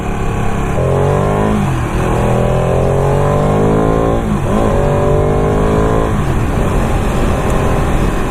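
A Ducati 959 sports bike accelerates hard and loud, its engine note climbing sharply, dropping briefly at gear changes, then rising again in repeated sweeping pulls.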